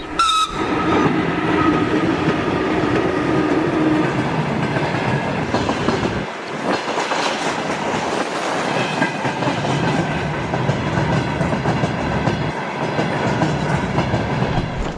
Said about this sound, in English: We saw a train pass.